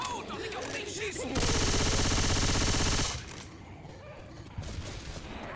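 Dense burst of automatic gunfire in the zombie shooter Left 4 Dead 2, loud and continuous for about two seconds before cutting off, with game noise and a voice around it.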